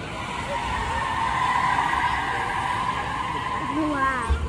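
A Ford Lightning electric pickup truck accelerates hard at an auto show in Pittsburgh, a loud sustained whine with tire squeal near the end, while people talk excitedly over it.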